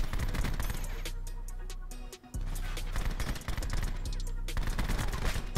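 Rapid gunfire from the Echohawk Dual Bore in Black Ops 4, loud dense bursts of repeated shots filling the clip, with one brief gap near the middle before firing resumes.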